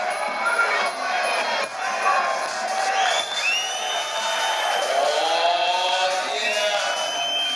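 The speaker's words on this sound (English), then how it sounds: "roar of the crowd" A large crowd at a boxing match roars and cheers continuously, shouts and whoops rising and falling over a dense wall of voices.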